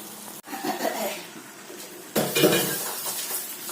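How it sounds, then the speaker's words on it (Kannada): Pumpkin pieces tumble into a pan of cooked tomatoes and get stirred, with a sharp knock near the start, then a louder scrape and clatter of utensil against the pan midway, close and fairly busy. "ಸ್ವಲ್ಪ ಬೆಂದ ನಂತರ ಟೊಮೆಟೊ ಬೆಂದ ನಂತರ ಈಗ ಕುಂಬಳಕಾಯಿಯನ್ನು ಅದರಲ್ಲೇ ಸೇರಿಸ್ತಾ ಇದ್ದೇವೆ"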